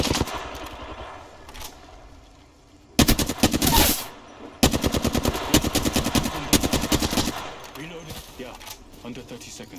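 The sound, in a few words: gunfire in Apex Legends video game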